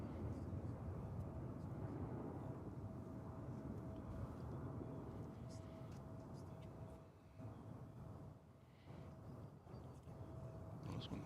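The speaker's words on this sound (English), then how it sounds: "This one took off way before I anticipated. A CRJ 701ER off to Parts Unknown." A CRJ 701ER jet takes off at DFW Airport, its roar a broad, sustained rumble at moderate distance that stays steady with only slight dips throughout.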